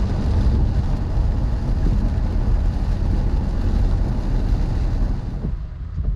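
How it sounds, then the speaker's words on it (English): Inside the cabin of an Infiniti Q50 Red Sport 400 with AMS lower downpipes and stock exhaust, a steady, deep engine drone holds loud and close, then eases slightly near the end, with no talk. "revs inside the cabin with just the AMS lower downpipe stock exhaust"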